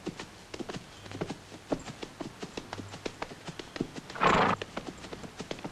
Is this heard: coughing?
no